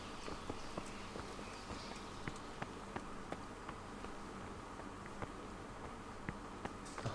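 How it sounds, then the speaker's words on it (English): Faint, irregular horse hoof clip-clops and footsteps in the medieval world of Kingdom Come: Deliverance, scattered over a steady buzzing insect-like ambience with no talking. "A horse."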